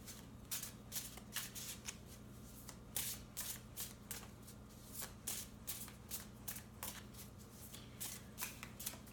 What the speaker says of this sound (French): on va aller voir avec mes cartes de Banksy